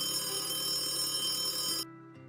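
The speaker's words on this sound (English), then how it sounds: "The phone is ringing." A telephone rings with a continuous bright electronic trill that stops abruptly near the end and leaves a faint lower tone behind. No voices are heard.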